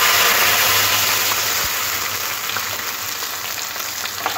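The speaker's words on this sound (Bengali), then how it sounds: "এখানে একটা ছোট সাইজের টমেটো নিয়েছি, দুখানা কাঁচা লঙ্কা, একটু আদা আর একটু জিরে একসাথে দিয়ে দেবো" Tomato, green chillies, ginger and cumin sizzle loudly in hot oil, a dense, continuous frying hiss close by that gradually settles slightly, with no talking.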